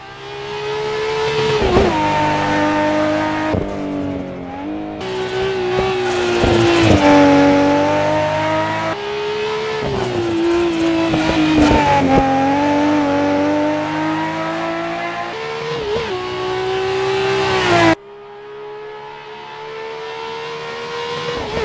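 A Nissan Skyline GT-R racing in Assetto Corsa, its engine loud and close, revving up and down through repeated gear changes with sharp cuts between shifts and a final drop in pitch.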